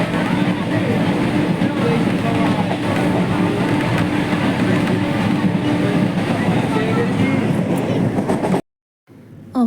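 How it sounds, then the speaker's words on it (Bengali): Continuous rumble and rattle inside a moving passenger train bound for Digha, with a dense, steady clatter from the wagon, faint voices mixed in, and an abrupt near-silence just before the end. "এখন কিন্তু আমরা ট্রেনে চলে এসেছি, ট্রেন ছেড়েও দিয়েছে অলরেডি।"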